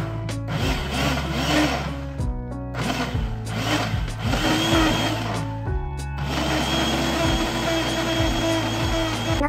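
An electric blender purees watermelon pieces for juice with a loud, whirring motor that runs in several pulses, cutting off briefly and restarting as the fruit churns.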